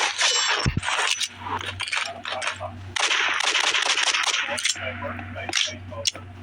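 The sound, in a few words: handgun firing in video game Roblox Rivals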